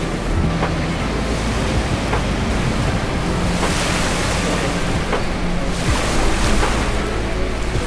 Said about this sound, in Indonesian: ada deburan ombak ya di pantai yang silih berganti